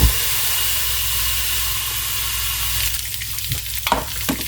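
Hamburgers cook on a closed George Foreman grill with a steady, close frying sizzle and hiss, continuous throughout, with a few soft clicks and handling knocks near the end.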